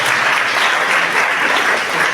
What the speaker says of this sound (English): I want a big round of applause to Mallikarjuna